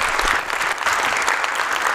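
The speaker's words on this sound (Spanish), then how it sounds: "Este aplauso es para ustedes" Strong, dense applause from an audience at a Salvadoran political address, a loud unbroken roar of clapping over a brief moment.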